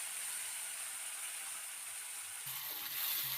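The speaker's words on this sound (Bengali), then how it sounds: "টমেটোটা এইভাবে একটু ভেজে নিয়ে" Ground tomato fries in a pan with a steady, quiet hiss and sizzle, and faint stirring scrapes come in near the end.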